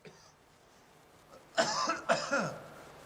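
A person coughs twice in quick succession, fairly close and moderately loud, after a brief quiet pause.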